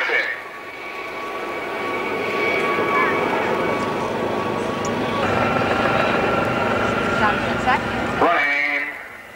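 A helicopter with a 13-bladed Fenestron fan-in-fin tail rotor at an airshow gives a loud, steady whining engine and rotor roar that holds for several seconds before dropping away near the end.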